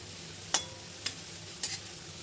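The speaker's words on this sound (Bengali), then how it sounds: "এবার বড়াগুলো আমার ভাজা হয়ে গেছে লাল লাল করে।" Fritters fry in a pan with a quiet, continuous hiss, broken by three brief scraping stirs.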